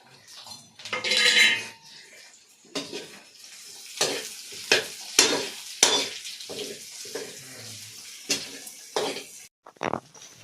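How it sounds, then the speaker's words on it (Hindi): Brinjal being stirred in a pan with a spoon: a burst of sizzling, then repeated metallic scrapes and clanks of spoon against pan in an irregular rhythm, close and fairly loud. "डालो, अब चम्मच चलाओ"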